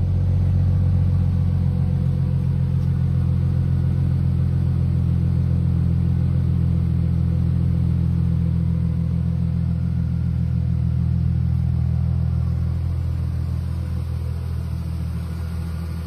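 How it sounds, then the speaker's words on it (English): A 2001 Chrysler Prowler with a 3.5 liter V6 rumbles steadily through its exhaust, a deep, continuous, fairly close idle-like drone with no talking. "It's a great sounding exhaust system."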